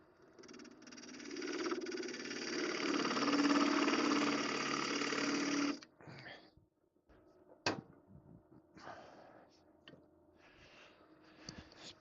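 Cheap spindle gouge cutting wood on a lathe, a steady whirring scrape that runs for several seconds and then stops abruptly, followed by scattered knocks and faint handling sounds.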